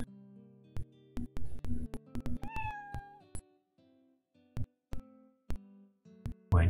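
A cat on a ship's cabin floor in a video game gives a single clear meow, surrounded by sparse sharp clicks and soft thumps in an otherwise quiet scene.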